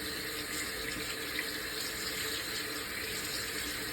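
Tap water runs steadily into a bathroom sink for rinsing a prosthetic eye, a continuous close hiss of flowing water with no breaks.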